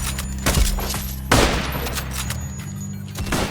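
Gunfire in a Roblox-style survival game, heard as a few loud sharp shots with a heavier blast near the middle, set over a steady low background drone.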